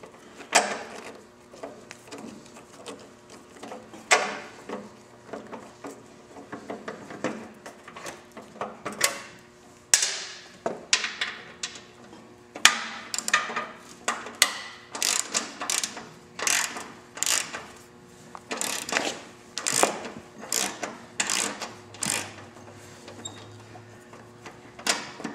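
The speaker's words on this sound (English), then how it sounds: "Take the 10mm bolts out for the fender." Ratchet wrench loosening 10mm bolts from the fender of a Victory Cross Country motorcycle, with rapid clicking bursts in irregular runs and occasional metallic clunks, close by and without talking.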